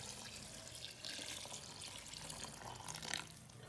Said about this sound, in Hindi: इसमें डाल रही हूँ पानी, बहुत सारा पानी डालूँगी